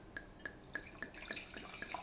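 Liquid, wine being added to a pot of corn chowder, falls in a quiet steady series of small drips and splashes, evenly spaced and close.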